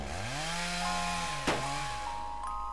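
Chainsaw sound effect from the visual novel Rewrite, a revving motor with sliding harmonic pitch, a sharp hit near the middle, then a steady drone, heard alone.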